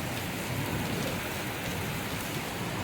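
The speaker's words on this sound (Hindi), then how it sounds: "अब बारिश हो चुकी है।" Outside a hospital in Nainital, rain pours in a constant broadband hiss of drops hitting the ground, moderately loud and unbroken, with no one speaking.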